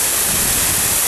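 The Aek Godang waterfall roars as a loud, steady, dense rush of falling water, heard during the dry season when its flow is reduced.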